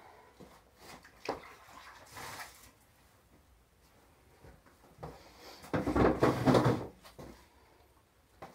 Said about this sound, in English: Dumping out the drain pan.